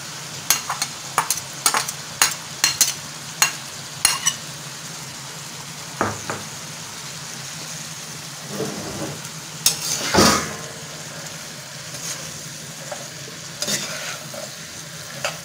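Okra and onion frying in a pan, a steady soft sizzle under a series of sharp spoon scrapes and knocks against the pan as the mixture is stirred, with no talk.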